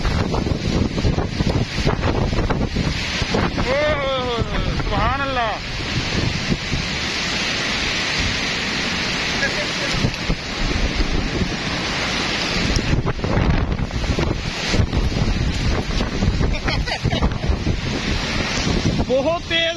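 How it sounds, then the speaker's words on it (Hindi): Strong wind gusting through bending trees while people shelter under a shed, a loud continuous roar with heavy buffeting against the microphone throughout, and voices talking over it. "बहुत तेज हवा चल रही है"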